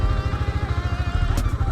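A motorcycle belonging to a fellow rider idles close by on a cold rural road in Malico, San Nicolas, Pangasinan. The engine holds a steady, loud, low throbbing pulse throughout, and a brief clatter sounds near the end.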